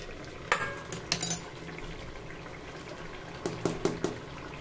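Mutton being stirred and sautéed in a pan for a slow-cooked kasha, with a few faint metallic clinks of a spoon against the pan in small clusters over a quiet background.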